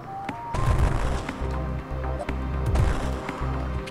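Repeated shots and booms from Samus's arm cannon in the AM2R Metroid 2 remake, a steady series of firing bursts over game music and effects, loud and close.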